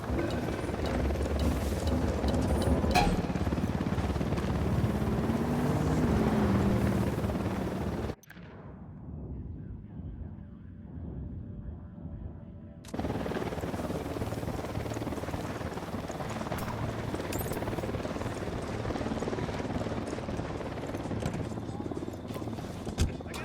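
Helicopter rotor drone in a shooter video game, a low continuous whir with gunfire-like bursts, cutting off briefly to near quiet before resuming at a similar steady level.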